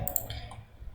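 A single quick computer mouse click, close and crisp, followed by a faint second tick over a low room hum, while navigating settings on a web dashboard.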